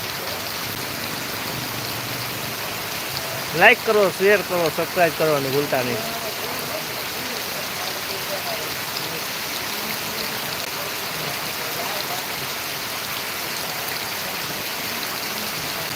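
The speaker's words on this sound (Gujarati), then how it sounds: "જોરદાર વરસાદ ચાલુ છે ભાઈ" Continuous heavy rain pouring down in a dense, steady hiss, with someone speaking briefly early on.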